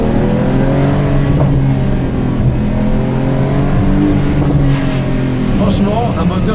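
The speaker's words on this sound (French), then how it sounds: "l'échappement il pétarade à haut régime" A Porsche 911 turbo engine drones steadily at high revs, loud and close, with exhaust popping at high revs and a voice talking over it throughout.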